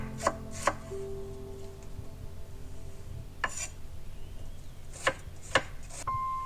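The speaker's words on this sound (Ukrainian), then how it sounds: "нарізаю смужечками ось такими тоненькими" A knife slices cabbage into thin strips on a cutting board in quick irregular strokes, a few crisp cuts then pauses, close up with no talking.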